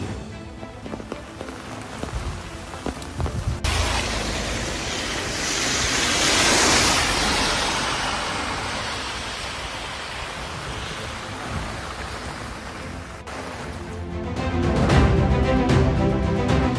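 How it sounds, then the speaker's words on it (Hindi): Heavy monsoon rain pours down outdoors in a steady, loud, noise-like wash that swells and surges for the whole stretch, with a brief shift near the start and end and no talking. "इतना इंतजार करने के बाद बारिश आई है"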